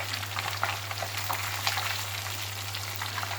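Fish frying in hot oil in a pan, a steady dense sizzle with crackling pops throughout, close and loud over a constant low hum, with no talk.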